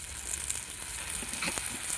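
Roasted green chillies sizzle and splutter in hot oil over a wood-fired chulha on a terrace, a steady dense hiss with a few sharper pops, fairly loud and close, no voices.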